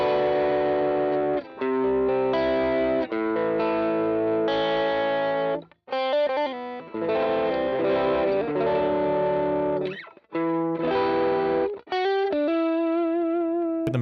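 Electric guitar on the neck pickup through a Neural DSP Archetype Mateus Asato clean amp, with delay and reverb off, playing sustained chords and melodic phrases with short pauses, loud and close.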